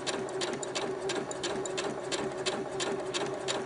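A sewing machine stitching fabric for a homemade bumblebee costume, its needle chattering in a steady, even rhythm at close range throughout, with no talking.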